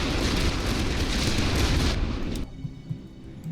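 Heavy World War I artillery barrage in The Great War: Western Front, a dense roaring rumble of overlapping blasts that cuts off abruptly, leaving a few faint distant thuds.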